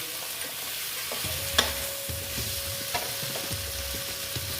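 Pumpkin with panch phoron spices is stir-fried in a pan, a soft continuous sizzle broken by repeated scraping stirs of a utensil, one sharper clink near the start, close and without speech.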